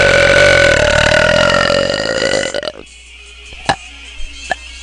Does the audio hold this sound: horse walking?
no